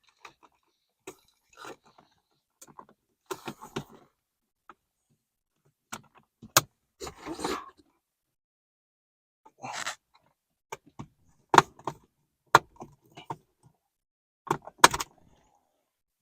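A dashcam part for a BMW E-chassis car is clicked into place in the cabin: a few sharp, close plastic clicks and scattered handling rustles separated by quiet gaps.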